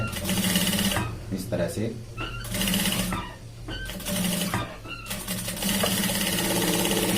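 Sewing machine stitching a shirt shoulder seam, running in loud bursts of rapid mechanical rattling with short pauses between them, while someone talks over it.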